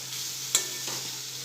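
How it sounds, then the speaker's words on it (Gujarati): Pulao ingredients stirred in a pan, heard as a steady close sizzle broken by a single sharp scrape or clink of a spoon, with no talking. "એ બધું સરસ મિક્સ કરી લઈશું।"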